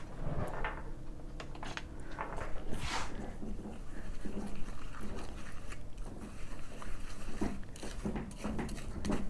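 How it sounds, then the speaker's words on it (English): A dog gnaws on a toy or plastic bed close by, with steady crunching, clicking bites and scraping filling a busy kitchen background. "one of the dogs is chewing a toy or chewing his plastic bed, Ted, stop it."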